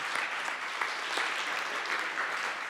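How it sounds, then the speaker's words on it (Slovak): An audience at the finale of a live hackathon event applauds steadily, a dense and even wash of clapping that continues at the same level from start to finish. "Potlesk veľký."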